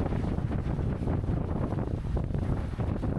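Steady, dense wind roars across the microphone at sea aboard a racing sailboat, with the rushing hiss of water against the hull underneath, loud and unbroken throughout.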